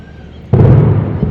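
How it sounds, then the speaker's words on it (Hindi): Drones are destroyed in a sudden loud explosion that hits at once and rolls on as a heavy, low rumble through the rest of the moment. "तो ये धमाके की आवाज आप सुन रहे हैं, ये वो धमाके हैं जब इन ड्रोन को पूरी तरह से नेस्तनाबूद किया गया।"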